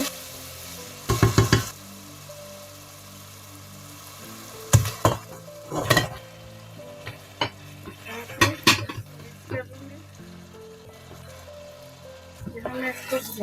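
Chicken pieces fry and are turned in korma masala in a pot, with a steady sizzle under repeated scraping and clinking spoon strokes that come in short bursts.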